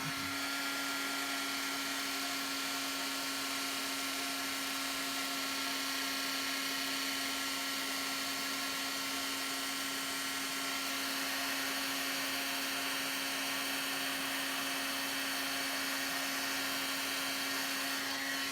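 Heat tool warming metallic embossing colors on foil, a faint continuous blowing whir with a steady hum, unchanging throughout with no talking.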